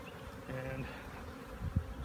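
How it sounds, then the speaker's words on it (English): Honeybees hum and buzz inside a swarm trap, a soft, close droning with a louder bee passing near the end. "So there's a lot of bees still in there."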